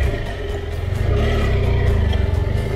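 A motorcycle engine on a camping road trip revs loudly and steadily at close range with a rough, pulsing throb for a few seconds, no voices over it.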